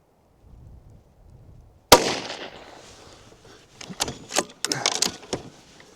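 Shots from a .17 HMR Ruger Precision Rifle at a range: one sharp, loud crack opens the sequence, followed by a cluster of quicker pops and impacts a few seconds later, with no voices.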